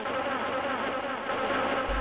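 A housefly buzzes loudly and continuously, a steady droning hum close to the ear with no other sounds around it.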